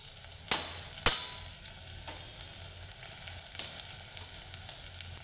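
Moth beans tipped into a pan of fried onions with crushed tomato, ginger and garlic, two sharp clatters as they drop in, then a steady low sizzle that carries on alone.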